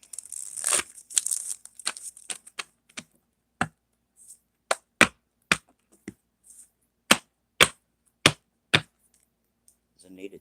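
Tarot cards being shuffled, starting with a quick flurry of riffling and snapping, then a dozen separate sharp card slaps at irregular intervals, close and crisp against silence.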